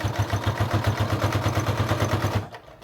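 A sewing machine stitches a placemat in a fast, even run of rhythmic thumps close by, then stops abruptly near the end.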